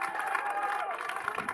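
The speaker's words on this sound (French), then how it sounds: "on peut encore l'applaudir, docteur de Chazourne encore" A street protest crowd cheers and applauds a doctor who has just spoken, a muffled, steady wash of clapping and shouting heard from a distance for a brief moment.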